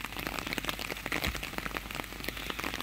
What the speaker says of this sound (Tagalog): Naabutan kami ni ulan.